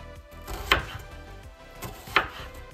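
A knife chopping a red onion on a board, two distinct close cuts about a second and a half apart over a quiet kitchen background.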